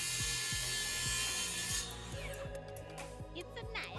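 A DeWalt FlexVolt cordless power tool cutting wood during an outdoor chicken coop build in Australia, a loud steady whine that shifts in pitch as the cut progresses, with a voice faintly present.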